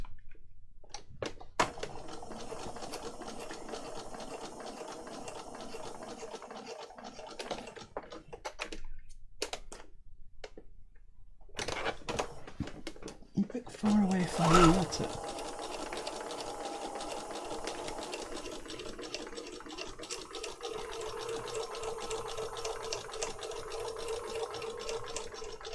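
A sewing machine stitches through journal paper, a quiet run of rapid mechanical clatter that starts and stops in short bursts, with a louder burst near the middle and a steady soft hum between.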